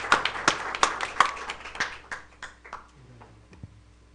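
A small school-board meeting audience claps for art winners: a scattered run of sharp hand claps, fairly close, thinning out and fading over a few seconds.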